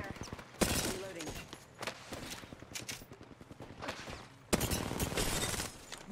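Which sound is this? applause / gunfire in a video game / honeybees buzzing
gunfire in a video game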